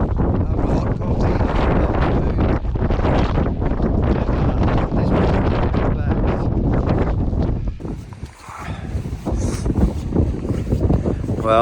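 Strong, roaring wind on an exposed alpine plateau of the Overland Track buffets the microphone in a loud continuous rush, briefly easing for a moment before surging again.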